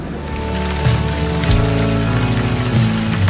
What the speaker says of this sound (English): The first thing I'll say is it's raining.